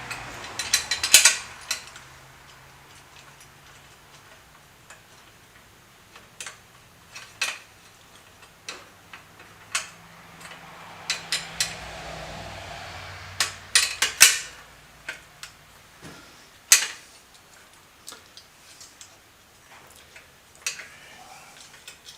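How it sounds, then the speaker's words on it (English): Metallic clicks and ratcheting from a wrench tightening a bolt on an Enfield 350 Bullet trials motorcycle, irregular bursts of close taps and ratchet turns with quiet pauses between them. "let's see if I can get this bolted on this side"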